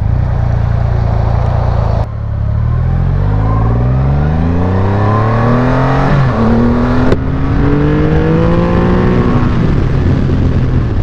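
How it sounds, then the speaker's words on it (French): A motorcycle accelerating hard above 4000 rpm, its engine climbing steeply in pitch through several gear changes, loud and close throughout with no talking. "tourne encore un peu la poignée. Voilà, ça c'est de l'accélération"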